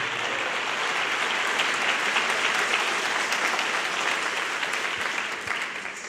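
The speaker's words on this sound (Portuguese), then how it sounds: "Pode aplaudir porque conseguimos chegar no final." A congregation at a religious talk breaking into a full, even round of clapping that holds steady for several seconds, dense and continuous with no talking, then thins slightly at the close.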